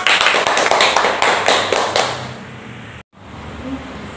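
A burst of clapping from a small group at an international seminar, brisk and dense, fading out after a couple of seconds before a short silence and room noise.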